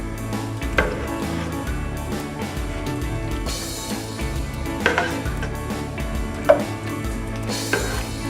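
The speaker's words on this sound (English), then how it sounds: "We're gonna layer a generous amount of meat sauce" A spoon scrapes and knocks against a baking dish while lamb meat sauce is layered for moussaka, giving close, irregular clinks and soft wet thuds with a few sharper taps.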